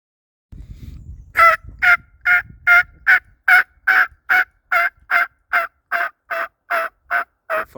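Wild turkey gobblers gobble on a spring morning along the Appalachian Trail in Virginia. About fourteen loud, clear gobbles follow one another in a quick, even rhythm against near silence.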